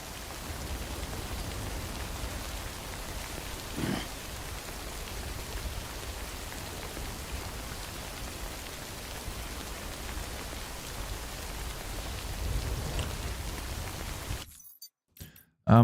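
Steady, heavy rainfall in the video game Death Stranding hisses continuously at a constant level, then cuts off abruptly at the end.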